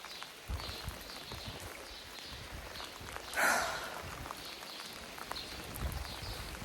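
Heavy rain falling outdoors on a farm, a steady faint patter with scattered drips and one brief louder splash or clatter, no talking.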